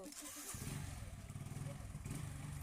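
A motorcycle engine runs with a low, steady putter that starts about half a second in and carries on quietly to the end, faint and somewhat distant, with voices over it.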